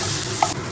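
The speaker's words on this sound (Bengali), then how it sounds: "কাঁচা লঙ্কাটা দিয়ে ভালো করে একটু নাড়াচাড়া করে নেবো, একটু ভাজা ভাজা করে নেব" Green chilies and cumin fry in butter in a pan while being stirred, giving a short, steady sizzle with one brief scrape of the spoon in the middle.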